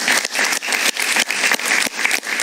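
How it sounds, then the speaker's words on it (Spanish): Studio audience on a talk show clapping continuously, a dense near applause with rhythmic surges throughout. "Un aplauso para ella, por favor."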